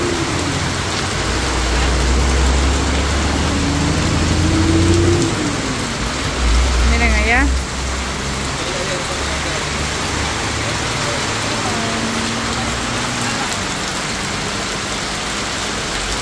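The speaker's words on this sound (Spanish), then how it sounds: "qué fuerte está lloviendo" Heavy, steady rain from a strong storm in Usulután, El Salvador roars throughout, with someone speaking briefly over it and a faint passing vehicle in the background.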